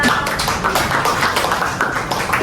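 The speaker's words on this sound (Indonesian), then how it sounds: "Oke, tepuk tangan untuk Atira" Classroom applause for a student, a dense steady patter of many hands clapping together at close range throughout, with no speech over it.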